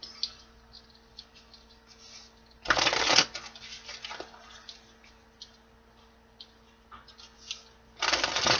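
Tarot cards are shuffled in two bursts of quick riffling that are loud and close, with soft card handling and light clicks in the quieter stretch between them.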